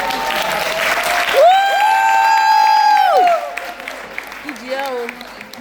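Applause and cheering at the close of a career debate at WimBiz, a crowd clapping with a long sustained whoop rising over it, followed by scattered clapping and voices as it tapers off.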